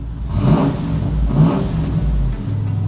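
A loud, rough Range Rover engine with a large hole in its exhaust revs up and down twice, with a deep rumbling, throaty exhaust tone close by.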